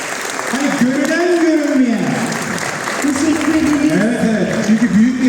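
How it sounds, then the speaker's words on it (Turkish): Audience applause at an awards night with fashion shows and dancing: clapping sits under a prominent, loud voice that carries through most of the moment. "bu gecede emeği geçen tüm emekçileri bir alkışlayalım"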